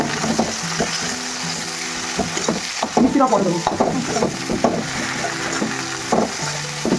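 Food fries and is stirred in a home kitchen pan while Bengali dishes with taro leaves are cooked, with soft sizzling and scraping spoon strokes mixed with clinks, and someone talking over it.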